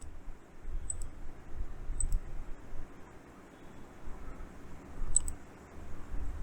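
A computer mouse clicks a few times, sharp faint ticks spaced about a second apart and a quick double click near the end, over low room hiss.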